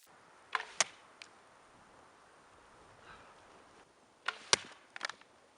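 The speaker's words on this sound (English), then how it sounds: "Here the arrow struck above the binding and split the board part way, penetrating a bit over an inch." Handmade arrows shot from a bow strike a partially woven slat armor board, giving two clusters of sharp, close impact cracks with a single smaller knock between them, against a faint outdoor wind hiss.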